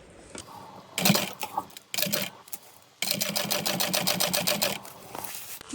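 Sewing machine stitching the full seam allowance on a small dual-compartment crossbody bag, starting in short stop-and-go bursts, then running in a steady rapid stitch for about two seconds before stopping.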